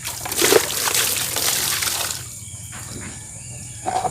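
Tap water running during dish rinsing, a steady broadband splashing flow for about two seconds that then thins to a quieter trickle with a brief splash near the end.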